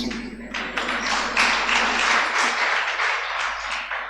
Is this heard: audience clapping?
yes